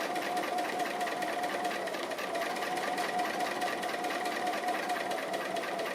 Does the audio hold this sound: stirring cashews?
no